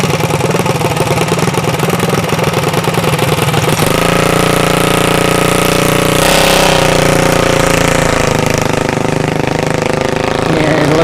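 A mini bike engine at a drag strip roars loudly and continuously, its pitch shifting as it revs, rough and buzzing throughout.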